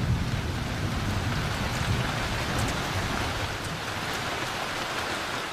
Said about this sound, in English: When rain comes to Sabah, it comes hard and without warning.